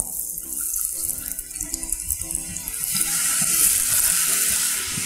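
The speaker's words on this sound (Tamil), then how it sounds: "எண்ணெய் சூடாக இருக்குது. இதை அப்படியே நம்ம எண்ணெயில் ஃப்ரை பண்ணிடலாம்." Continuous loud crackling sizzle of square-cut chapati pieces frying in hot oil, with bubbling that swells and thickens toward the end.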